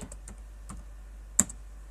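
A few sharp, separate clicks of computer keys as a Python command is typed on a keyboard, close and fairly quiet over a steady low hum, with one louder keystroke near the end.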